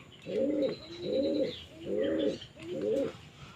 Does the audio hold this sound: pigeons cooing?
yes